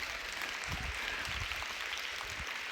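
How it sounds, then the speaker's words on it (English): Faint, steady audience applause in a tech industry conference hall, a continuous wash of clapping heard from a distance with low rumbling underneath. "So give it applause."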